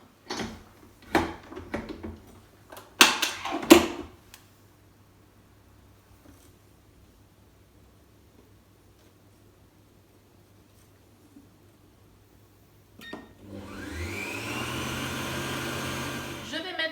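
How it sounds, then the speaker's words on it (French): A Cooking Chef food mixer fitted with the K beater starts up on biscuit dough after clicks and handling noises and a long near-silence, then runs with a steady motor whir. "Et je vais installer le batteur K et mélanger 1 minute à vitesse 3"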